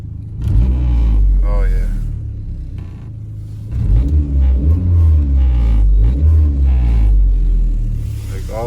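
An Audi A4 B6 1.8T with new stiffer motor mounts rumbles loudly while being driven, with deep low engine drone and surges of revving heard from inside the cabin, and someone speaks briefly over it.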